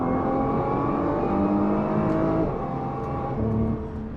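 A 2021 Nissan GT-R's turbocharged engine pulls hard under acceleration in a low gear at highway speed, a loud steady rising drone with layered harmonics that sweeps upward twice, heard close from inside the car with no talking.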